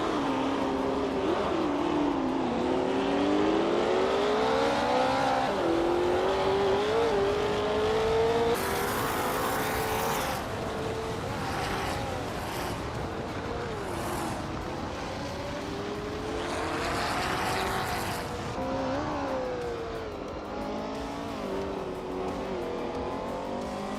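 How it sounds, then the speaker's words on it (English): A 1968 Porsche 909 Bergspider racing in a video game, its engine note steadily droning and rising through gears, with a brief harsher burst midway, continuous and moderately loud with no voices. "Amy is driving a vintage Porsche 909 Bergspider from 1968."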